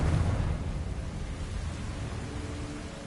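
A Confringo blasting curse goes off in Hogwarts Legacy, a short burst of explosive noise at the start that fades into a steady hiss of rumbling debris, with no one talking.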